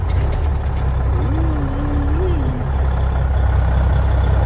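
A Freightliner cabover truck's heavy engine rumbles steadily at close range, with a low idling drone throughout and a brief rising tone partway through, under faint voices.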